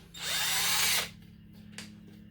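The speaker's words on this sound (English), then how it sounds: "Drill a pilot hole using each one of those holes you put in there." A power drill with a bit just over 2 millimetres bores a pilot hole for mounting an HB Racing wing. One sharp, loud whine lasts about a second, then a brief second burst. No speech.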